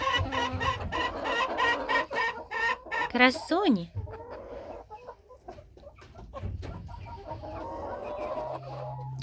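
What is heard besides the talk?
hens clucking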